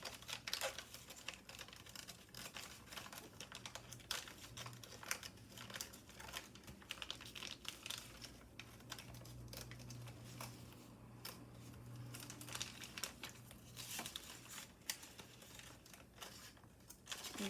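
Origami paper for a Kraken aircraft carrier model being folded and creased by hand, with steady soft crinkles and sharper crease presses running throughout at a close, quiet level.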